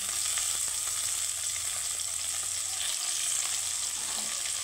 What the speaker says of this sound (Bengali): তো টমেটোটা আমি পেঁয়াজের সাথে একটু ভেজে নেব।